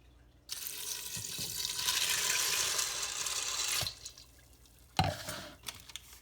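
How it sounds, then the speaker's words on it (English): Water pours steadily for several seconds, four cups rushing and splashing into an Instant Pot with macaroni, then stops, followed by a clunk and a few small knocks. "We're going to add 4 cups of water."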